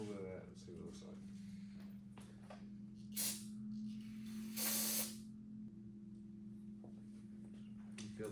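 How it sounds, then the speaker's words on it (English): Two short bursts of brake cleaner sprayed onto a Foxbody engine part, each a loud hiss lasting about a second, over a steady low engine hum with people talking around it. "Spray with some brake cleaner."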